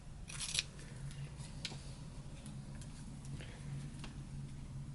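Scissors cutting the corners of jacket fabric, several crisp snips and clicks close by, spaced unevenly over a low steady background hum.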